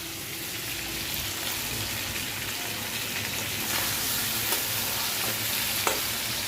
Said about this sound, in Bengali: একটু লাল লাল করে চিকেনটাকে ভাজছি